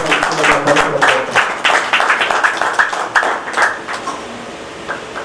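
An audience at a volunteer service organisation's event claps vigorously, a loud burst of distinct hand claps that thins and fades toward the end, with some voices mixed in.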